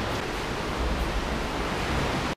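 Sea water surges into a rocky cave on Fuerteventura in the Canary Islands, a loud, broad, roaring wash that holds steady throughout and cuts off abruptly at the very end, with no voices heard.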